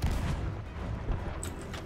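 Ship cannons boom in the Sea of Thieves video game during a fight against a skeleton fort, forming a dense, loud bombardment of overlapping blasts across the whole stretch.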